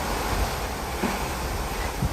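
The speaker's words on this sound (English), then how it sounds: "you can hear the waves which are crashing on our board" Ocean waves wash against the side of a Norwegian Prima cruise ship at sea, forming a broad, steady roar mixed with wind noise. A few soft thumps of water rise out of the rush.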